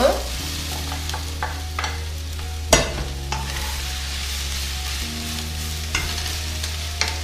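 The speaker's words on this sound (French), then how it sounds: "je vais ajouter maintenant mes champignons" Mushrooms tossed into a hot wok for a paprika turkey sauté sizzle steadily and close, with a low hum beneath and occasional sharp clacks of stirring against the pan, no voices.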